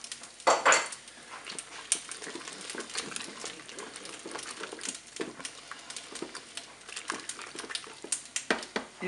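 Spoon scraping and clinking in a Cookeo pot while stirring turkey, peppers and rice with tomato concentrate, a run of irregular close taps and scrapes with a brief louder rustle near the start.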